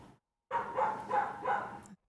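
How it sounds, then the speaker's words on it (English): A pet dog barks in a short burst of three or four close, loud woofs in a room, with no one talking over it. "You hear my dog in the background?"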